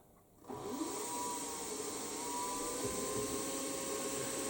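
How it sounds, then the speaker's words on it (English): A milling machine drills a 6 mm hole through aluminium tooling plate, giving a steady, fairly quiet whine that starts abruptly and holds evenly to the end with no talk. "So I should be able to just pop that hole through"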